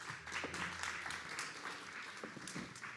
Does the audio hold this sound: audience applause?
yes